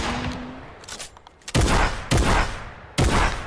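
A heavy shotgun in a video game fires three loud, close booming shots spaced roughly half a second to a second and a half apart, each followed by a short decaying tail.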